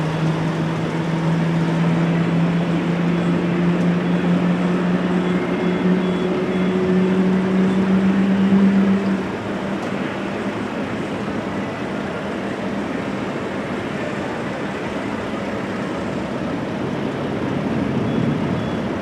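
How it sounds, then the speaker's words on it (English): At rainy Amsterdam Schiphol Airport, a steady, loud engine roar with a low droning hum shifts slightly in pitch, then settles into a broad constant rumble, like jet engines spooling up. "Hopefully the mic is picking up the sound of the starting engines well."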